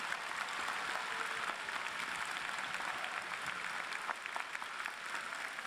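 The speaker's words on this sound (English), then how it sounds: "would you give a big round of applause to all these folks who are here" Sustained applause from a large crowd fills an indoor arena at a university commencement ceremony, dense steady clapping with scattered cheers throughout.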